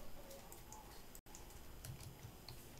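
Quiet typing on a computer keyboard while writing SQL, faint scattered key clicks under a low background hiss with a brief dropout partway through.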